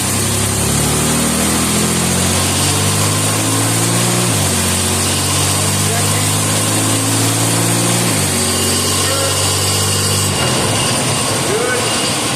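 A car engine under throttle on a stationary automatic transmission test, loud and continuous with pitch rising in repeated climbs that drop back twice as gears shift, then a rougher stretch near the end.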